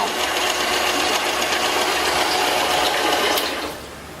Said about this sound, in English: we can check our pump by turning it on